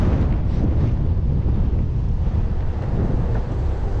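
Steady, heavy wind buffeting the microphone while riding a Possway T3 electric skateboard outdoors, a continuous low roar with no pauses and no voices.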